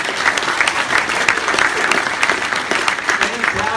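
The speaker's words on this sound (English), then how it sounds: "so give her a round of applause" Audience applause at an interactive keynote address in Australia, a dense, steady wash of many hands clapping close and loud throughout, with no pauses or talk over it.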